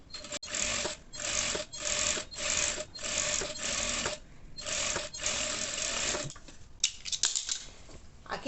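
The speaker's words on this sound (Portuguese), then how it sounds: "Agora nós vamos prespontar aqui o elástico, bater uma costura." A sewing machine topstitches elastic on panties in rapid, close bursts of needle clatter with short pauses between runs, and no talking over it.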